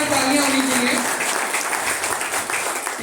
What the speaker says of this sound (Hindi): तो मेरे को शानदार तालियां होनी चाहिए